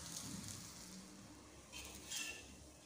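Mutton shami kababs frying quietly in a pan, a soft steady sizzle with a few faint clinks of utensils, louder bursts of crackle near the end.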